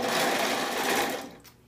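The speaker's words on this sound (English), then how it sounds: "with the new Rave, the sewing machine, you can make twice the amount of booties and half the amount of time" A sewing machine runs in a fast, continuous whir at close range, then winds down and fades near the end.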